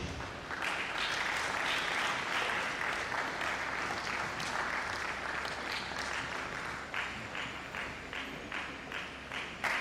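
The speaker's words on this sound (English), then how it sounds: "let's give him a round of applause" A lecture audience at the COLMAS 16th College Lecture breaks into loud, sustained applause: dense, continuous clapping from many hands, fairly close, with no talking over it.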